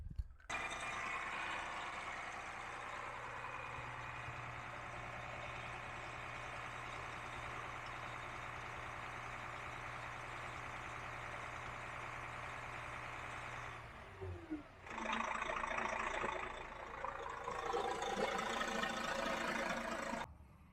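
A DAF CF truck engine idles steadily with a constant low drone and broadband hum for most of the clip, briefly dipping before resuming louder and rougher near the end; no talking.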